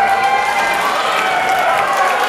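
A wrestling crowd at a live No Holds Barred match roars with sustained cheering and applause, a dense, continuous wash of noise filling the arena.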